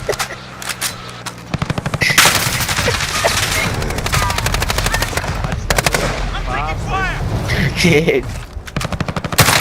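Rapid machine gun bursts from a League of Legends match, loud and repeated in stuttering volleys through most of the stretch, with voices chatting over the gunfire.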